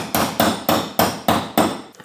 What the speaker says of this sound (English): So I think we're just gonna do it with a hammer instead.